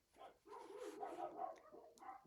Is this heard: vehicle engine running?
no